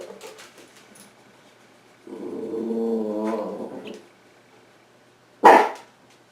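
Chihuahuas barking nearby at a noise outside: a sustained yappy, howling bark run mid-clip, then one sharp loud bark near the end.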